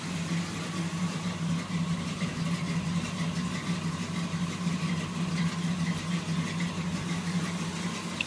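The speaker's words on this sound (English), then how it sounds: "That is a cold start." Engine of a 1981 K10 truck idling steadily after a cold start, a continuous low rumble with a faint vibrating AC belt, close and unbroken, with no one talking.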